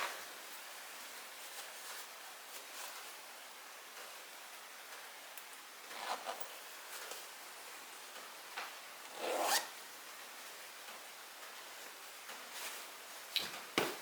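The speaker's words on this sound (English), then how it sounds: "And then you just zip it shut." A fabric couch cushion cover being zipped shut, with several quick rasping zipper pulls and rustles at close range against a quiet background, the longest burst midway through and two short tugs near the end.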